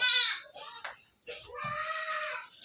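A goat on a goat farm gives a loud, close, wavering bleat, then after a short pause a second, longer drawn-out bleat.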